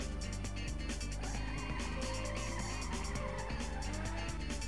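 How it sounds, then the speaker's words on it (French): Racing car engine in the PlayStation game Ridge Racer Type 4, a steady droning roar with tyre squeal over a constant game music bed, loud and continuous. "C'est ma voiture qui fait ce bruit là."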